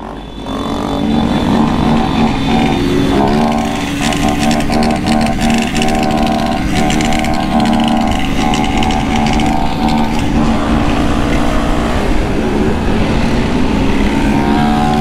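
A group of motorcycles riding together at night, engines roaring loudly and continuously up close, with revving and shifting pitch as several bikes run side by side.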